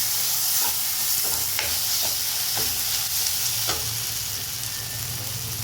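Grated potato being mixed into aloo roti dough, a steady close scraping and stirring texture with a few soft knocks, no voices.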